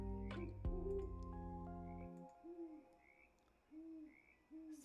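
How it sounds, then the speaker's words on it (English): Repeated owl hoots ring out in a piece of background music during a spring art stream, the low hoots returning every second or so after a sustained harmonic chord fades, moderately loud and alone. "owl is intense in this music"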